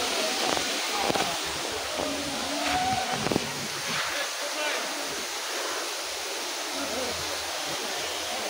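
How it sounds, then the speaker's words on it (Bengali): A waterfall in the Sajek Valley and Khagrachhari hills gives off a steady, broad rushing roar of falling and flowing water, continuous and close, with a few faint knocks early on. "পানির সাউন্ডটা অনেক সুন্দর লাগছে।"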